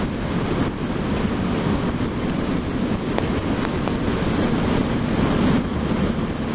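Steady, loud broadband wind rush buffets the microphone while riding a 2023 Suzuki GSX-8S motorcycle, continuous and roaring throughout with no talk.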